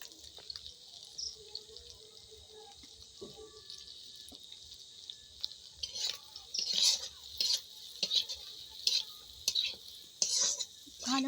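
Soybean and potato curry is stirred in a pan with mustard oil, starting as a quiet, thin sizzle and then turning to louder, irregular scraping and stirring bursts close by, with a faint voice early on.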